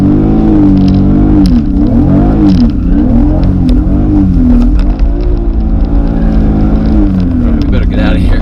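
A BMW E36 M3 revs hard and accelerates in a parking lot, its loud engine note rising and falling in steady sweeps close by for the whole stretch.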